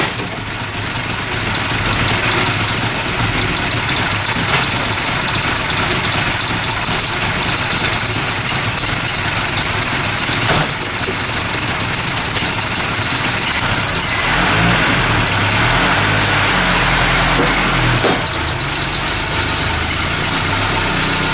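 A Ford Capri engine runs loud and close as the car pulls away and drives. The rough, rattly mechanical note rises and falls with the throttle over steady road and wind noise.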